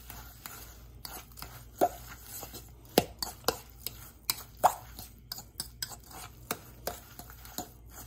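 Crab stuffing is mixed with Italian style breadcrumbs in a bowl, a series of close, soft wet plops and clicks of a utensil against the dish in an irregular rhythm, with no talking.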